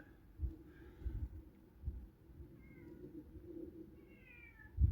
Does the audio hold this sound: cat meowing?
yes